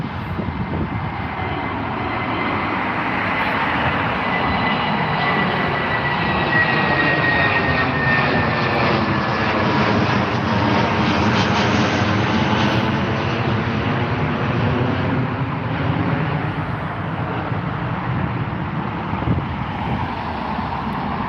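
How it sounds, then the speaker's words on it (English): A Korean Air airliner taxis at Heathrow airport, its jet engines producing a loud, continuous roar that swells and then eases slightly as it turns on the taxiway. No voices can be heard. "it does look like Korean Airlines are finally on the way, my friends, because they've turned a full whopping 90 degrees"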